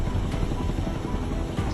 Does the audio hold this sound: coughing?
no